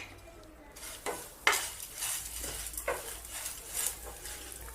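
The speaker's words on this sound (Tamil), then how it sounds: "இப்போ இது எல்லாமே லைட்டாக வறுத்துக்கோங்க." Red chillies and grated coconut being stirred while dry roasting in a pan, with a steady scraping, rustling stir and a faint sizzle throughout, several louder scrapes standing out, and no talking.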